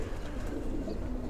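Pigeons coo from a stock cage, a low steady murmur of soft calls continuing throughout at moderate loudness with no talking.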